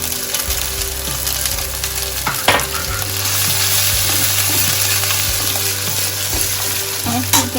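Cumin seeds and then ginger frying in hot oil in a home kitchen, a steady loud sizzle with a few sharp crackles and spatters, a low hum running underneath, no one talking.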